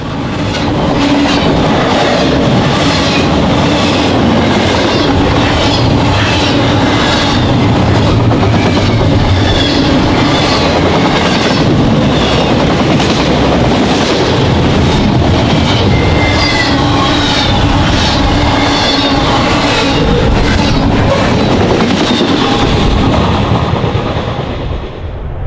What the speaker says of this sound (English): we caught Intermodal Train 205 at Delta, Ohio, near the interchange with the Indiana and Ohio Railway